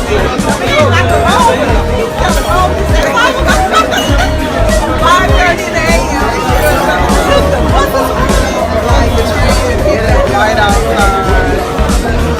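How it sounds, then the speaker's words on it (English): A club crowd in Paris at 5:30 a.m. chatters in a dense, steady hubbub, with many overlapping voices close by, occasional whoops and a passing car, while one voice speaks over the babble. "The club crowd."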